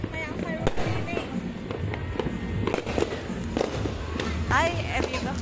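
Christmas and New Year fireworks pop and crack repeatedly at irregular intervals, some sharp bursts close and others fainter, while people chatter in the background.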